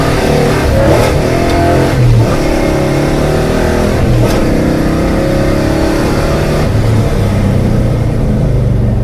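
A car engine fitted with a FiTech fuel injection system revs hard and briefly bogs, with steady mid-range engine roar under varying load and RPM throughout, close and loud with no talking.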